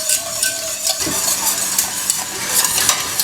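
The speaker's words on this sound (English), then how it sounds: "Now we're going to heat this up at a medium heat while whisking, and we're going to wait until it's thickened" A whisk beating custard in a pan on medium heat, brisk rhythmic scraping and clinking against the metal with a faint sizzle underneath, close and continuous.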